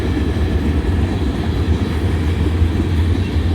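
A slow freight train of cement hoppers, center flow cars, tank cars and empty high-side gondolas rolling past close by, a loud, steady low rumble of wheels and cars with no break.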